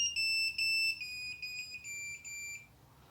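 A Scher-Khan 6i car alarm arming on a VAZ-21140, heard as a series of about five loud, close electronic chirps that step slightly downward in pitch, then silence.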